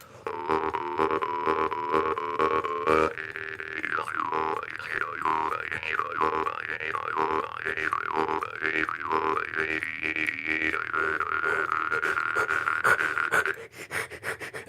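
A jaw harp twangs with a buzzing, shifting tone, and rhythmic breath audibly shapes each note, played up close and continuously before stopping abruptly near the end.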